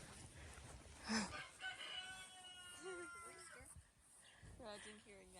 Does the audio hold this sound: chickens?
yes